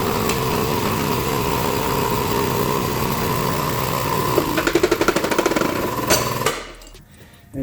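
An old bearing is pressed off a pinion from a 2005 Chevy Silverado rear axle, with a steady mechanical drone, then a quick burst of sharp rattling strikes before the press cuts out into near silence.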